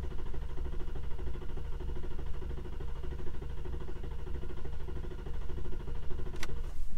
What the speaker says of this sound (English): put your foot on the gas all the way to the floor, then the clutch, and then hit the start button. It won't start for a few seconds.